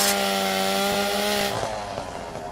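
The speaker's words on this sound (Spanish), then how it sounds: "Y un arma muy deseada por todos, la sierra mecánica." A chainsaw from The Walking Dead Saints and Sinners 2 drones loudly at a steady buzzing pitch, then winds down and sputters toward the end, heard alone.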